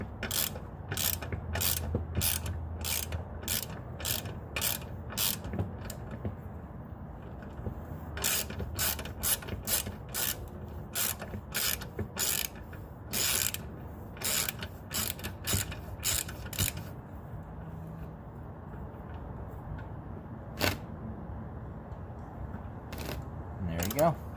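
A ratchet wrench clicks in quick, sharp repeated bursts while tightening exhaust flange bolts into an old exhaust manifold, close and crisp, pausing now and then over low workshop background.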